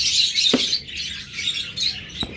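Caged pet bird pairs, some already laying eggs, chirp in a steady high-pitched chatter with two short sharper calls standing out, fairly close and without any voices.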